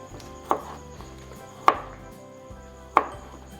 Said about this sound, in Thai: หั่นเลยส่วนรากผักชี